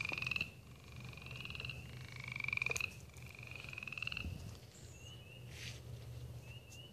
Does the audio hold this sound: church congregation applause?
no